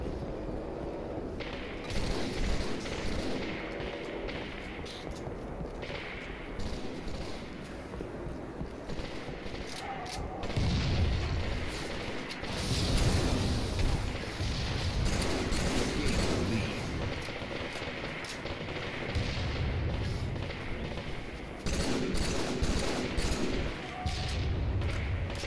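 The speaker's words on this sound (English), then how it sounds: "I gotta concentrate on the shooting" Gunfire and explosions from Halo 3 matchmaking, a steady busy barrage of shots with heavy low booms swelling at intervals and no clear speech over it.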